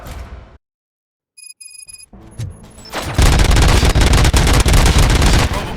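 In the video game RoboCop: Rogue City, a short burst of digital sound gives way to a dense, loud volley of rapid gunfire that continues without pause.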